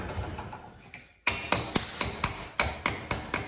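Sharp metallic hammer strikes ring out in a steady rhythm, about nine loud blows close by after a quiet start, hammering a metal cap onto a car's front-end brake assembly.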